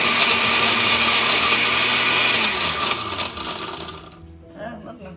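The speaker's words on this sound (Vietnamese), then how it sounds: "Bỏ tí nước vào cái máy xay." A kitchen blender grinds crab legs and crab with a little water for crab noodle soup, a loud whirring churn that slows and fades out near the end, with a voice faintly underneath.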